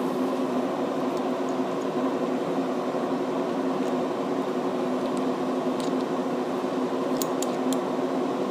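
Paint booth ventilation fan running steadily in a hobby workshop, a continuous broadband hum and whoosh at constant loudness throughout, with a few faint clicks near the end.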